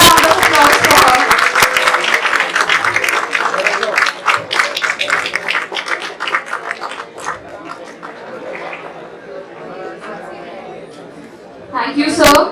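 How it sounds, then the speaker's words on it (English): An audience at an HR conclave applauds, dense clapping that is loud at first and then thins out over several seconds, with murmured chatter and voices underneath and a brief burst of noise near the end. "Give a big round of applause for her."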